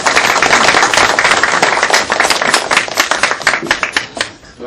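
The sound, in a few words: applause at a political campaign committee meeting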